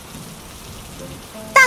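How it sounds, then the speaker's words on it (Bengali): Cartoon rain falls as a steady soft hiss for over a second, then a sudden short, bright tonal sound cuts in at the end. "দেখে যাও কি সুন্দর বৃষ্টি নামছে।"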